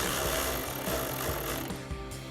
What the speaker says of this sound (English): grab our 10mm socket on our ratchet and loosen up our clamp here